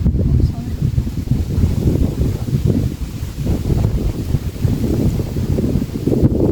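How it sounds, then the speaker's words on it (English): Strong wind buffets the microphone outdoors at Lilford Park, England, in low, rumbling gusts that rise and fall continuously. "it is really windy at the moment"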